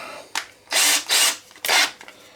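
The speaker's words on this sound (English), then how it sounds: "Try a brand new and smaller diameter drill." A power drill with a new, smaller-diameter bit bores into a motorcycle frame during spindle line boring on a GSXR1100, heard as four close, loud whining bursts of rising length, separated by short pauses.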